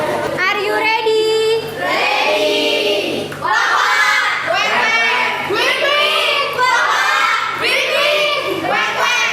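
Schoolchildren in an Indonesian classroom shout a call-and-response chant during a class game, several loud, overlapping bursts of many young voices in rapid succession, close and energetic throughout.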